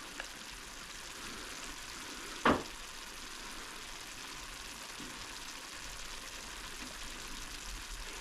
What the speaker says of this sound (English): Cook this for a few minutes until the onions become translucent